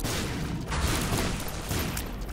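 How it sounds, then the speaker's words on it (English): Loud overlapping bomb explosions from The Binding of Isaac, a sustained rumble of booms with a few sharper bursts across a couple of seconds, no speech over them. "We are immune to explosions"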